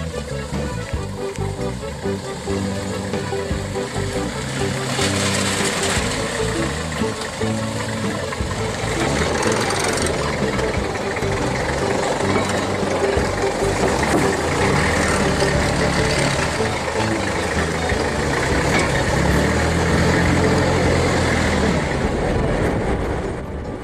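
A vehicle drives along a 90-kilometer dirt road in the Sandrohy and Ikongo districts, its engine and rattling body producing a constant, loud rumble with jolting bumps throughout.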